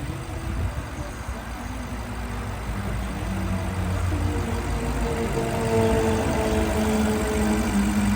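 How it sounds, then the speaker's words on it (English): A BMW 750Li with a twin-turbo V8 and direct fuel injection idles steadily, a low, even rumble heard close up and alone for several seconds with no change in pace. "This is how they run when they're happy. Direct fuel injection."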